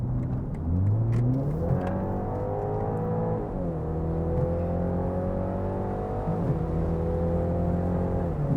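A BMW 330e hybrid with a quad exhaust accelerates hard, its engine note climbing through the gears with two or three short dips at the shifts. The drone is loud and close, and no one speaks.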